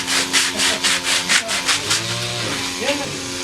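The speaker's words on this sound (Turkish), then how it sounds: "Arkadaşlar şimdi öbür tarafını zımparalayacağız" A wooden coat rack is sanded by hand: about eight brisk, even rasping strokes fill the first two seconds, close and steady, and then give way to a softer low hum with a voice faintly underneath.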